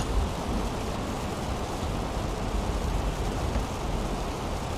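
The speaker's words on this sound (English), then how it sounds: "Rain smacking the windshield." Rain smacking the windshield of an Airbus A320 cockpit in the Fenix A320 flight simulator, a dense steady hiss and patter with loud wind, continuous and even throughout with no talking.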